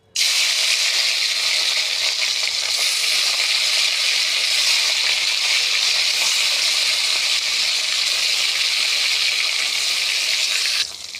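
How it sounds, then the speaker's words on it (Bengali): Rohu fish fries in hot oil, a loud, continuous, close sizzle that starts abruptly and holds steady for about ten seconds before easing slightly at the end. "বন্ধুরা এখানে তেল গরম হয়ে গেছে এখন মাছ দিয়ে দেবো"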